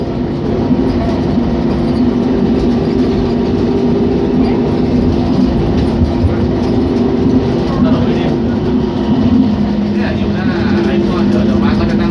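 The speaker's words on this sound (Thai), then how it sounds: "ขบวนรถก็เร่งความเร็วนะครับ แล้วก็จะเข้าสู่สถานี เจริญนครนะครับ" BTS Gold Line rubber-tyred driverless train speeds up on an elevated track in Thonburi, Bangkok, heading toward Charoen Nakhon station: a steady, loud cabin rumble with rising motor hum and a faint rolling rattle throughout.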